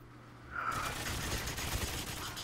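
Gunfire erupting in the GoldenEye Reloaded video game, a sudden burst of rapid shots after a brief quiet moment, continuing as a dense rattle of fire to the end.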